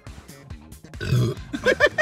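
Loud, croaking burps follow gulps of cola in a burping contest between a man and a woman, forced through a novelty mouth horn, with short gruff bursts rising toward the end.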